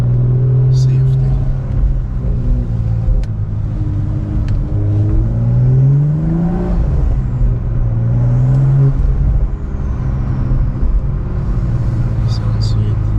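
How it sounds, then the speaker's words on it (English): A BMW M340i engine revs up close, rising and falling in pitch through several pulls with turbo whoosh, while people talk loudly over it. "When I hear all the turbo noise there."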